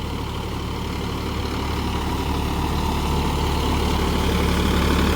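A Mahindra Yuvo 475 DI tractor puddling a field in second gear gives a steady, loud low engine drone that builds slightly over several seconds, with no voices.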